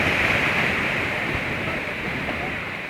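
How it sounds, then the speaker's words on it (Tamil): Water pours down Monkey Falls on the road to Valparai, a loud, steady, hissing roar that fills the scene without a break. "இந்த மாதிரி தண்ணி கொட்ட எங்கேயாச்சும் பார்த்துருக்கலையாங்க?"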